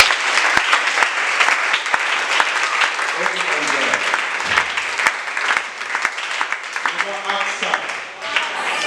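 A church congregation applauds and acclaims the Lord during a French-language worship service: dense, sustained clapping fills the whole stretch, with voices calling out and singing mixed through it.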